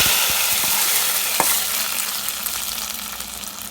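Mustard seeds and curry leaves fried in hot oil sizzle steadily and close up as the tempering is poured into a lamb head curry, with a few sharp crackles from popping seeds and no speech.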